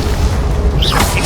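Incendio fire spell cast in the Hogwarts Legacy video game, a short, loud, deep rumbling boom ending in a rising whooshing flare.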